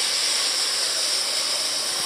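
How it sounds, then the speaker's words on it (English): Steady steam hiss rises from a stew pot of browned hot dogs or sausage as diced tomatoes go in, a broad, even sizzle-like rush lasting about two seconds with no voices. "Oops, sorry for the steam."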